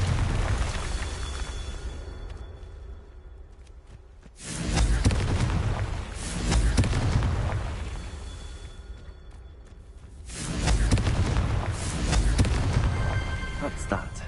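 Confringo spell blasts in the Hogwarts Legacy video game, two loud booming bursts separated by a lull, each swelling into a rumbling roar that lingers before fading.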